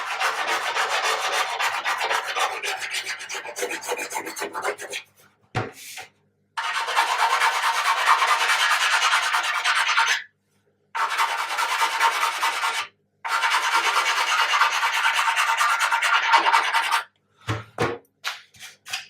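A hand file rasps steadily against a hard part of a 1/200 scale ship model in long continuous bursts, separated by short pauses, ending with a few brief strokes.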